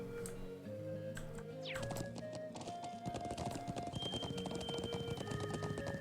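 A horse clip-clops at a steady trot in the Legend of Heroes: Trails of Cold Steel video game, rapid even hoofbeats over game music with sustained tones.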